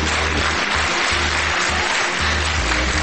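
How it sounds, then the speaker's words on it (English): Children clap their hands together in a film trailer, a thick, continuous patter of many hands held at an even level over a low, pulsing musical backing. "Children of the world, if you believe in me, clap your hands."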